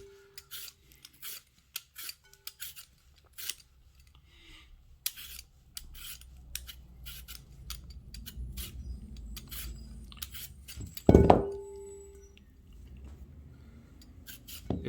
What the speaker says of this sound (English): First we're going to peel the potato.